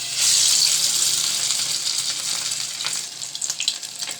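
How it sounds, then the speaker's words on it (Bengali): A soaked afternoon snack drops into hot oil and erupts into a loud, steady hiss that eases into crackling bubbles, with a few soft scrapes near the end and no voices. "এবার এটা আমি তেলের উপর দিব। তেল গরম হয়ে গেছে"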